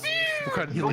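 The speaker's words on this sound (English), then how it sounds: "Yes, that is a cat." A cat gives a single clear, falling meow close up, and a person starts speaking right after it.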